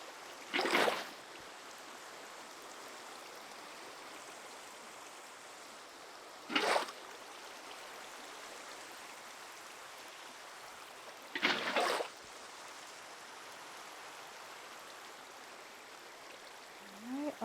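Water in the Minecraft video game comes through as three short, rushing bursts about five seconds apart over a quiet, faintly hissing background, with no talking.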